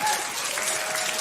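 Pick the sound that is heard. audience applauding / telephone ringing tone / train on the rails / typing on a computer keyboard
audience applauding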